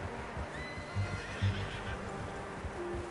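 Horse neighing in the video game Red Dead Redemption 2, a faint, low whinny with a couple of snorting bursts under a steady background hum, no speech.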